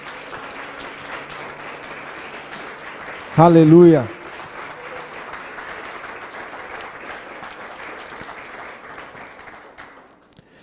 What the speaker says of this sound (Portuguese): Pode aplaudir Ele por isso.